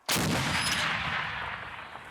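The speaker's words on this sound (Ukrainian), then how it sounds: "Гармата! Постріл!" A single powerful artillery blast erupts suddenly, then a long rumbling echo decays slowly across the open air.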